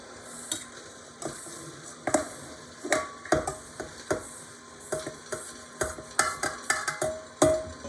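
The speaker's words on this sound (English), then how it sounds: "Now we're going to add our ground almonds." Ground almonds being stirred into raspberry Capri cake batter in a bowl, heard as steady, close, rhythmic scraping and folding strokes with no talking.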